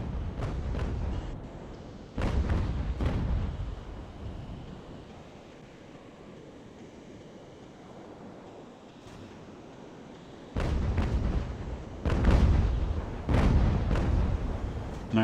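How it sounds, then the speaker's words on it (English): Broadside naval cannons boom from wooden sailing warships in Ultimate Admiral: Age of Sail, heavy rumbling blasts arriving in clusters of two or three, separated by a long lull of low sea ambience before another closely spaced volley. "So pretty good first shots on the Santa Rita."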